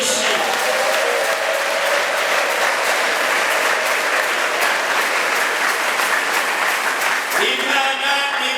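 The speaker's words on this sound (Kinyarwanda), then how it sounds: "Mu Imana amashyi menshi." Sustained, dense applause fills a church worship gathering, steady and loud throughout, with a brief voice or musical tone near the end.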